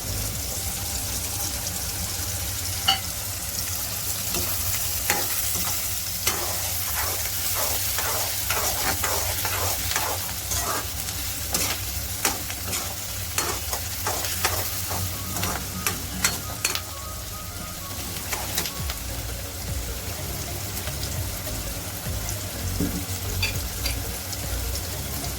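Green chili and onion fry in oil for a South Indian ridge gourd and potato curry with a continuous close sizzle. Repeated scraping stir strokes come in quick runs, heaviest through the middle stretch.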